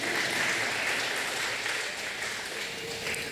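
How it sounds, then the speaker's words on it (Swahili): A church congregation applauding during an end-of-year thanksgiving sermon, steady sustained clapping from many hands throughout. "Wale wamepiga makofi, Mungu awabariki mara 3."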